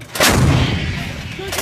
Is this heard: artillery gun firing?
yes